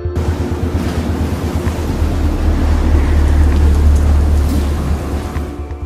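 Stormy sea wind and crashing waves in open water, a loud, continuous roar with deep rumbling surges and hissing spray swelling and easing throughout, with no voices.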